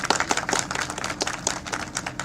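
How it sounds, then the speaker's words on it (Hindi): Audience at an NDTV election carnival event in Mainpuri claps loudly on cue, a dense, continuous patter of many hands with uneven bursts, close and steady throughout. "आप सबकी तालियां एक बार जोरदार बजनी चाहिए।"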